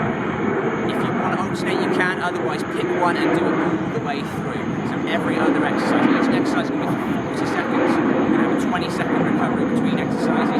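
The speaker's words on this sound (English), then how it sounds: "You can hear the plane behind me." An airplane passes overhead outdoors during a holiday workout session, a steady, broad engine roar that swells slightly and persists under continuous close speech from a person talking.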